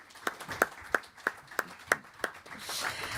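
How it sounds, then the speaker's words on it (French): Steady, evenly spaced handclaps, roughly eight in three seconds, sound faint and sparse at an economics conference panel session in Aix-en-Provence, fading out at the end. "on peut l'applaudir, on peut applaudir Mohamed."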